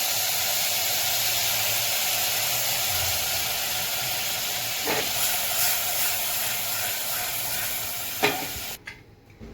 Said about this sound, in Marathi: 2 शिट्या कुकरच्या करायच्या आहेत।